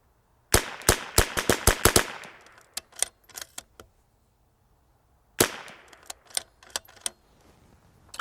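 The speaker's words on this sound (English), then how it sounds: "All right, next 10, we're gonna shoot the same target." A .22 rimfire rifle firing Norma TAC 22 ammunition at a target. A quick string of sharp, close cracks is followed by slower scattered shots, then a pause and a second irregular string.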